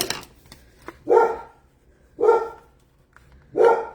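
A dog barks three times indoors, each bark loud and spaced about a second apart, with quiet background between while someone works on a paper card project.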